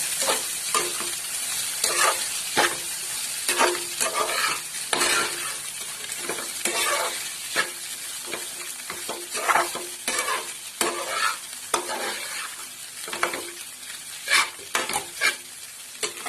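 Kande pohe, flattened rice with onion, frying in a pan while a spoon stirs it in steady scraping strokes over a constant close sizzle, with no talk.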